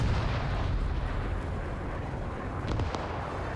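Bombs exploding in a WW2 German versus Soviet multiplayer game, deep rumbling blasts with a low continuous roar and a couple of sharper cracks near the end, heavy and booming.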